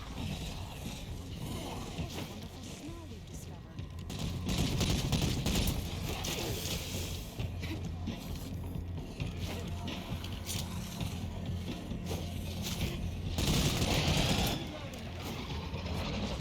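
Gunfire from a firearm in the zombie survival game State of Decay 2, a dense run of shots amid mechanical clatter that swells in two louder bursts, with someone talking over much of it.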